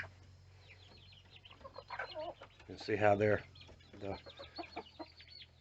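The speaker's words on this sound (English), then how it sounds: "the light brown hen's pecking at the white one" Hens cluck and a rooster calls nearby in a farm coop, the clucks coming in scattered bursts with one louder squawk in the middle. Someone talks quietly alongside them.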